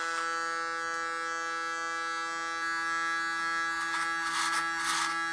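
Steady, close buzzing drone of electric hair clippers set to 6 millimeters running through hair, with a brief rougher brush of cutting near the end.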